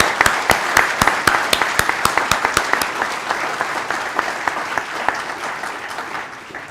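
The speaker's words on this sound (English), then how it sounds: "Let's applaud those who've given 20 years" Audience applause at an employee recognition and awards ceremony honoring twenty years of service, with crisp individual claps standing out near the microphone over a steady crowd clapping that gradually thins.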